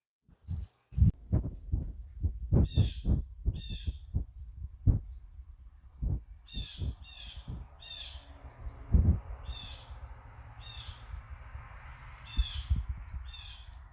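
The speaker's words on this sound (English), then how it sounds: "Is that a bird? What kind of bird is it?" Outdoor bird calling in repeated harsh, crow-like bursts spaced a second or so apart, mid-distance and clear, following a run of low thumping knocks near the start.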